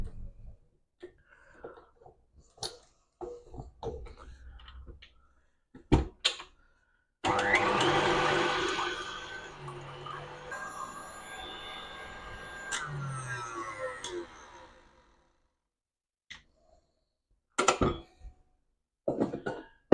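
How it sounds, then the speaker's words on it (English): A cocoa meringue mixture is whisked toward soft peaks, giving a continuous whirring buzz for about six seconds between quieter stretches of faint clinks and kitchen handling noises. "I'm going to get my whisk and we're going to get that mixing."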